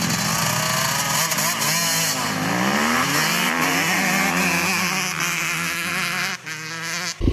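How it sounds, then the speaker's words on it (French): A Yamaha WR250F 2015 dirt bike and a YZ125 two-stroke accelerate hard, engines winding up through rising revs with a gear shift midway, loud and close, buzzing continuously before a brief drop near the end. "J'ai comparé cette moto en accélération avec un 125 de temps YZ."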